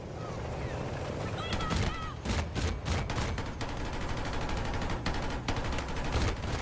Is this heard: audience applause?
no